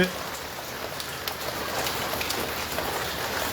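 Steady rain pours down on a rainy day outside a family home, where a drum has been set out to catch the water; a dense, even hiss of drops runs throughout with scattered louder patters.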